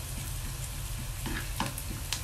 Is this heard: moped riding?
no